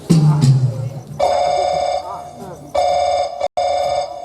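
A mobile phone rings in repeated electronic tone bursts with short gaps, loud and close, after a brief stretch of speech at the start, during a comic Chhattisgarhi stage play.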